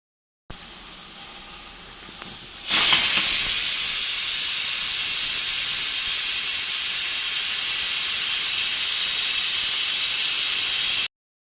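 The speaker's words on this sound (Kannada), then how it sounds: "ಕುಕ್ಕರ್ನ ಮುಚ್ಚಳ ಹಾಕಿ 4 ವಿಷಲ್ ಕೂಗಿಸ್ಕೊಳ್ಳಿ" A pressure cooker on the stove, cooking vegetable pulao, bursts into a sudden loud, sustained steam whistle and hiss that holds steadily for about eight seconds after a quieter stretch.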